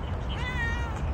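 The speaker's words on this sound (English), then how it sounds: "Don't meow to them, dude." A single drawn-out meow from a cat, close and clear against a low rumbling background, lasting about a second.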